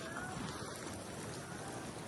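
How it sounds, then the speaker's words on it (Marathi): Heavy rain pours down on the Kharghar hills, a dense, steady hiss of drops spread evenly across the whole clip with no break and no voices. "रास पाऊस पडतो इकडे बघा"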